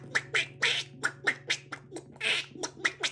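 Children and adults imitate a duck family's quacking and chattering in a German sing-along, a rapid series of loud nasal quack sounds voiced in rhythmic bursts, close and repeated about a dozen times.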